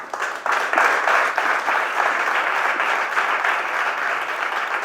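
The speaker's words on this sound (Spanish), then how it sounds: "fuerte aplauso para él" Sustained applause from an audience at a business forum in Coín, dense and steady clapping that fills the room throughout without a break.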